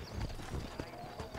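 Steady clip-clop of horse hooves on a trail in the video game Red Dead Redemption, a rapid rhythmic trot running throughout over a dense, busy background.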